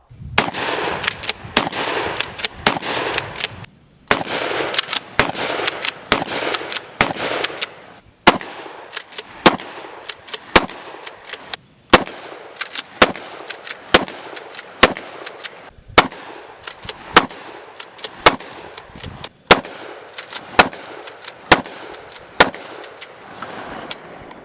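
A Mossberg 590 12-gauge shotgun fitted with a stock fires a long series of loud, sharp, close booming shots, each with a brief echoing tail, in a steady rhythm with a few short pauses and no talk.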